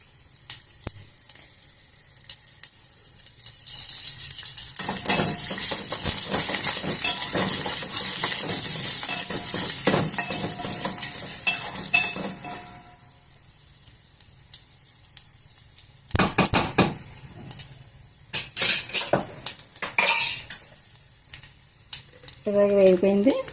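Dried red chillies and curry leaves frying in hot oil with chana dal, a steady loud sizzle that fades, followed by scattered stirring clatters and a short burst of speech at the end.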